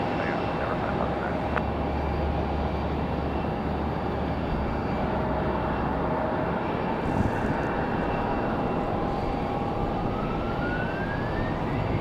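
An airliner takes off from runway 5 left on a windy day at Raleigh-Durham International, a broad steady engine roar filling the whole stretch with a faint rising whine toward the end.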